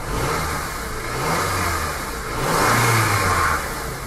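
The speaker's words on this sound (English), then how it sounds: "So the engine is running, it's smooth." Honda CR-V engine running steadily just after a spark plug change, a smooth mid-pitched hum that swells slightly near the end as if revved lightly, with no talking.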